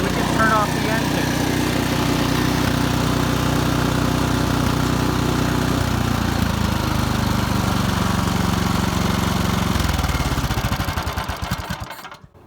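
A snow blower engine runs steadily and loudly, its low idling drone with a clattering mechanical texture continuing for most of the stretch before it cuts off and dies away at the end.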